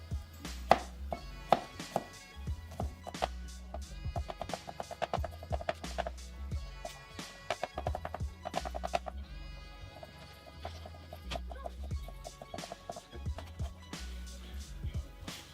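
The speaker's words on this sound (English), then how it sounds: "you can go ahead and start chopping this" Knife chopping peeled garlic cloves on a cutting board while preparing infused hash browns, a quick run of crisp, irregular taps close up with brief pauses partway through.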